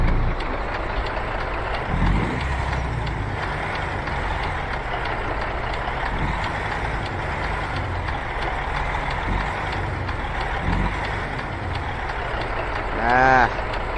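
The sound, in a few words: truck and traffic noise with windows rolled down, American Truck Simulator game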